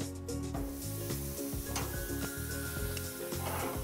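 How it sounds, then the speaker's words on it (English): Steak sizzling on a grill over medium heat, a steady crackling fizz with soft pops running throughout at moderate loudness, with no voices. "And we're just gonna let it grill."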